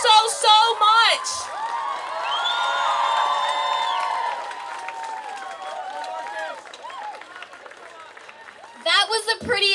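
Crowd at an outdoor climate strike rally in Seattle cheering, whooping and applauding, a sustained wash of voices and claps with shouts rising above, swelling near the start and end.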